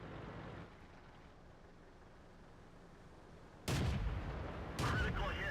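Howitzer fire in a tank video game, a quiet rumbling background then two heavy booming blasts near the end, the first abrupt and sustained, the second following about a second later.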